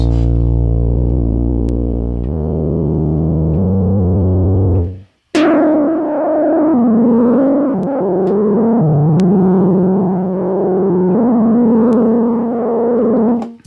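A buzzy, gritty synthesizer tone with a noise oscillator hiss blended in, its pitch wobbling and sliding, broken by one brief dropout partway through.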